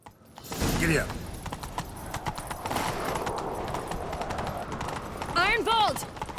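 Horse hooves gallop at a brisk clip-clop rhythm in The Witcher 3, close and fairly loud, with a horse whinnying near the start and again near the end; game dialogue or voices can be heard partway through.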